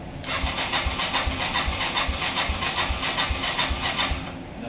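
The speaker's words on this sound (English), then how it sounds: "If I try and start it with the starter," ATV four-wheeler engine cranked with its electric starter, a loud continuous rhythmic churning with regular low pulses that runs for about four seconds, then cuts off.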